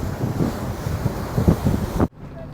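Strong wind buffets the microphone on the deck of a ferry from Krabi to Phuket, a loud continuous rumbling roar with gusting swells and a faint wash of sea beneath, cutting off abruptly near the end.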